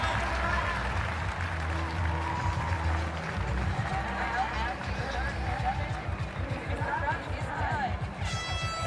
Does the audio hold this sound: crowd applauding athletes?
yes